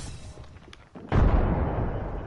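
A frag grenade goes off in a video game, with a brief click and rattle first, then a sudden loud, deep blast that rumbles on as a heavy roar. No one speaks.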